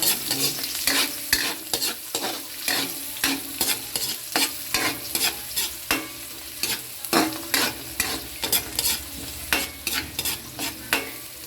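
Garlic, onion and ginger fry together in hot oil in a pan, their steady sizzle broken by the rhythmic scrape and clatter of a utensil stirring. Each stir lands up close at a quick, regular beat, with no talk.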